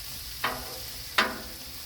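Salmon cooks in butter on a Blackstone griddle, a soft steady sizzle broken by two brief scraping stirs, close and quiet, with no talk.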